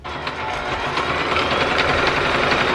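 A sewing machine runs steadily while stitching along the sides and bottom of a fabric book or tablet sleeve, a continuous close whirring hum throughout with no talking.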